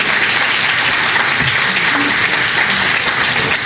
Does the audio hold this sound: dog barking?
no